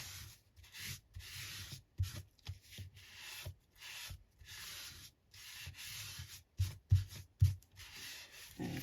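Paper is burnished by hand in an altered book craft project, a series of close dry rubbing strokes in uneven bursts with short pauses, a few louder thumps near the end.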